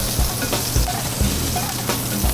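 Red onions sizzle in a hot pan after fish has been seared, a steady close frying hiss with a few soft stirring knocks, no voices.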